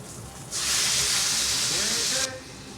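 Loud, steady sizzling of meat pan-frying bursts in after a quiet moment and holds for nearly two seconds, then drops away.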